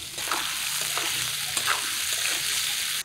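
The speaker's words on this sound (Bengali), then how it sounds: "এখন এই মাছ ভাজার তেলে আলু বেগুনগুলো ভেজে তুলবো।" Potato and eggplant pieces fry in hot oil left over from frying fish. A loud, continuous sizzle runs throughout, with soft stirring scrapes under it.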